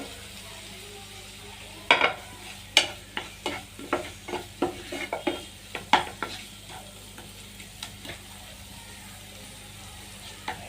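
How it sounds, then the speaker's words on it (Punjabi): Turmeric roasting in a pan for macaroni, stirred with a utensil in a quick run of sharp scraping clinks over a soft sizzle, close and clear with no talking. "ਤੇ ਹਲਦੀ ਨੂੰ ਅਸੀਂ ਚੰਗੀ ਤਰ੍ਹਾਂ ਭੁੰਨ ਲਵਾਂਗੇ"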